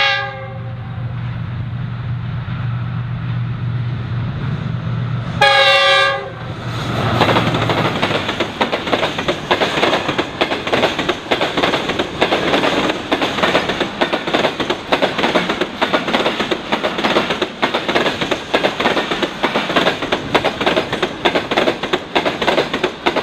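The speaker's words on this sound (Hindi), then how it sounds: "41 अप कराक्रम एक्सप्रेस का GU40 की लाइट विजिबल हो रही है" Karakoram Express passenger train sounding a long loud horn, with a second blast around six seconds, then the rattling, rhythmic clatter of carriages passing close by for the rest of the clip.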